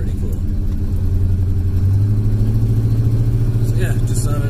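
A small, unusual-looking van drives past and turns a corner near St. Alphonsus church in Victoria Mines, Cape Breton, its engine a steady loud rumble close by, with brief fainter sounds near the end.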